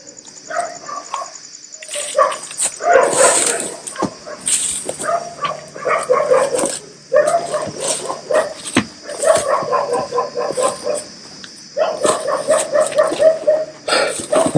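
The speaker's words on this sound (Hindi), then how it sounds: "जब से मैंने यहाँ पे एंटर किया है तब से कुत्तों की भौंकने की आवाज़ें बढ़ गई है" Several dogs bark insistently in irregular volleys, with some yips and whimpers mixed in, close and loud, while a high steady tone hums beneath.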